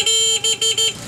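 A TMX Alpha 125 motorcycle horn beeps four quick times in an even rhythm, loud and close, then stops.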